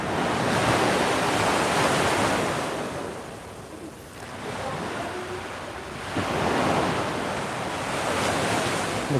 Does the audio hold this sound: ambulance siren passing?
no